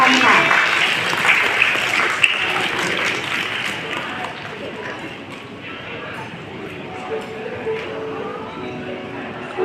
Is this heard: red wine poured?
no